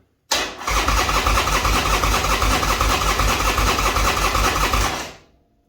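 An engine with no fuel cranks steadily for about five seconds without catching, a loud rhythmic churning that stops abruptly.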